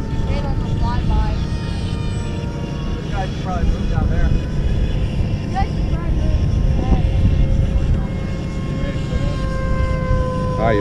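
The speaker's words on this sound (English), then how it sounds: "Go as fast as you can on the flyby." Radio-controlled model airplane with swept wings buzzing through a fast flyby, its high engine whine rising and shifting in pitch throughout, steady and fairly loud, with voices talking over it.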